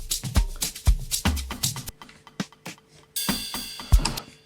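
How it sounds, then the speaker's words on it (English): A ride cymbal sample in an FL Studio Afro house beat rings over kicks and claps, dropping to sparse hits before a bright shimmering wash swells in near the end, loud and without talking. "And that's the ride."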